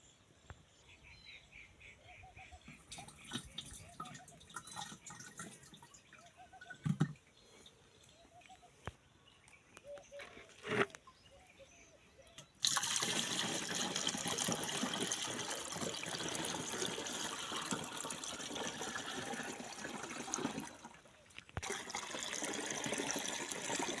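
A measured 35 ml dose of weed-killing herbicide is poured into a sprayer pump tank, a steady splashing gush that starts halfway through after a quieter stretch of faint bird chirps and small knocks.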